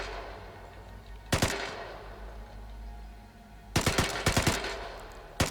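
Automatic weapon fire in the video game Vigor: one short burst, then a longer series of rapid bursts and a final shot, loud and sharp over a quiet low hum.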